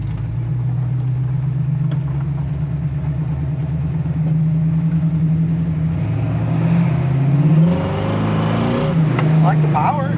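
A 1967 Chevy Camaro driving with a steady low engine rumble that rises and falls as it revs, people talking over it from inside the car.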